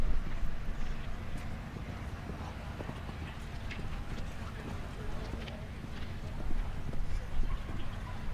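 Horse hooves thud and clip-clop at a show jumping Nations Cup grand prix in Ocala, a steady galloping rhythm under wind noise and a commentator's talk.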